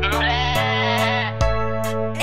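A goat bleats several times in a row, short wavering cries close by and fairly loud, with brief gaps between each call.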